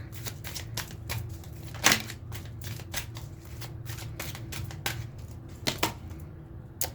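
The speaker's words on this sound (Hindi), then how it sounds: "ये कार्ड और निकाल लेते हैं।" Tarot cards being drawn from a deck and handled, with a quick series of papery flicks and slides, one sharper snap partway through, and no talking.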